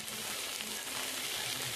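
Eggplant slices frying in a pan just after a splash of water is added, giving a steady, dense, close sizzle that holds evenly throughout without pauses.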